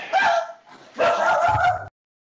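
A person imitates a dog barking during a tabletop game session, giving two loud, voiced bark-like bursts close to the mic, the second longer and rougher, then silence.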